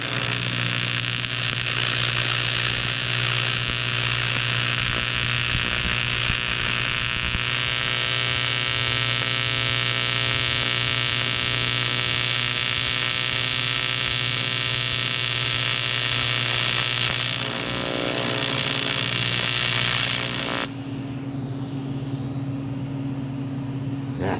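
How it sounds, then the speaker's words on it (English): Aluminum being TIG welded with a Lincoln Squarewave welder gives a steady, loud, close buzzing hum with a constant tonal drone that holds unbroken for about twenty seconds before dropping to a quieter background. "It's just so hypnotizing for me to weld aluminum, watching that puddle do what it does."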